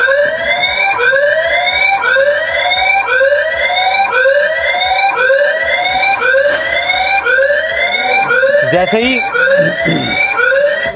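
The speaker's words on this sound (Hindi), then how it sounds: "लाइट ऑन होगी, फ्लैश करेगी, सायरन बजेगा" A CP Plus security camera alarm siren wails in fast, continuous rising sweeps, loud and close, repeating steadily throughout, with faint speech and rustling underneath near the end.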